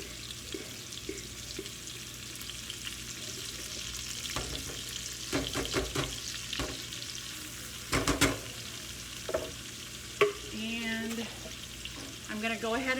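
Olive oil, butter and vegetable oil frying in a pan with onion, a quiet steady sizzle with intermittent clinks and stirring knocks, plus a brief watery pouring sound late on.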